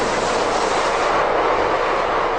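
A Spanish Cercanías commuter train passes close by with a loud, continuous rushing rumble that holds steady throughout.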